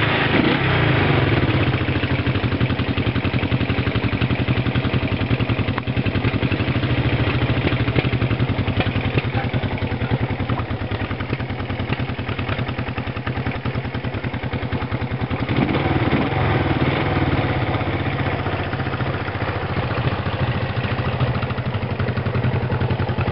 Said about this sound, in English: difference in the bikes is the sound. Here's this 360.